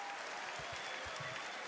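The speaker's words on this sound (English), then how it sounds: "This is a collective bravo for what Nuno Borges has brought to centre court." Crowd on Wimbledon centre court applauding Nuno Borges, a faint, steady wash of clapping from a distance with a few low thumps.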